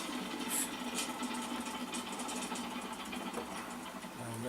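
A Spitfire Mk IX engine in the DCS flight simulator turns over during start-up with fine pitch set and brakes on, giving a steady mechanical whir and low hum that holds at an even level throughout.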